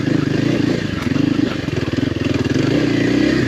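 Kawasaki KLX 300R motorcycle engine pulling steadily in first gear, a loud, continuous lugging drone with a pulsing throb that rises slightly toward the end, heard up close with no talking.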